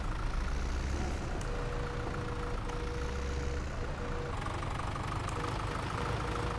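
A tractor engine idles in a farming video game, a steady low rumble that holds at one level with a faint whine and occasional light clicks, with no talking.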